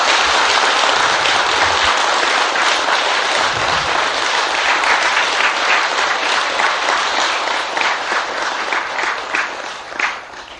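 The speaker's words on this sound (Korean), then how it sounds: "큰 박수로 한번 뜻을 맞춥시다." Large audience applause at a Buddhist dharma lecture, loud and continuous, gradually thinning and tapering toward the end with a few last scattered claps.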